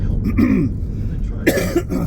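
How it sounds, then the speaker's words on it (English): A man coughs up close, two harsh bursts separated by a short pause, with throat-clearing rasp. "I am coughing"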